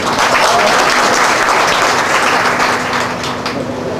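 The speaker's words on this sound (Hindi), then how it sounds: "एक बार सब मिलके तालियां बजा के।" An audience at a public gathering applauds steadily, a dense, sustained wash of many hands clapping that stays loud and even throughout before easing slightly near the end, with no speech over it.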